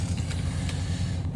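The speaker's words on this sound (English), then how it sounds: "There's now trucks on each side running motors" Semi trucks idle with motors running on each side during a steel coil pickup, a steady, low, droning engine hum at moderate distance, with no talk.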